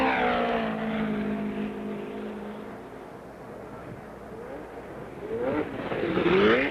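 Indy race cars streaking down the main straight of Ontario Motor Speedway, engines droning with falling and rising pitch as they pass, fairly distant and steady, with another car swelling louder toward the end.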